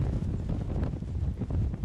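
A gust of wind buffets the microphone outdoors beside a GudCraft WG400A wind generator, giving a loud, continuous low rumble that swells and dips for the whole stretch with no voices.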